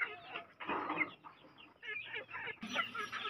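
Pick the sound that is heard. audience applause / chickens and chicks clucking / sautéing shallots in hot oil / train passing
chickens and chicks clucking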